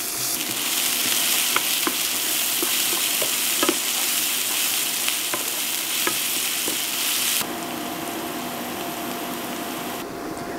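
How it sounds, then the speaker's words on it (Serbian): Chopped onion sizzles in the leftover fat from frying minced meat: a steady, close hiss of frying with scattered clicks and scrapes of stirring, heard alone. "I sada na ovoj istoj masnoći, gde smo pržili meso, propržit ćemo crni luk dok ne omekša."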